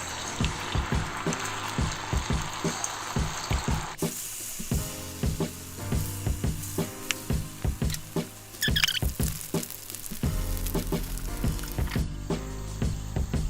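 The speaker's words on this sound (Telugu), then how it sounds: "ఇప్పుడు మనం కొద్దిగా తీసుకొని పునుగులాగా వేసుకుందాము" Spoonfuls of sago and buttermilk punugulu batter drop into hot oil for deep frying, giving a steady sizzle with crackling bursts and clinks of a utensil against the pan, with no talking.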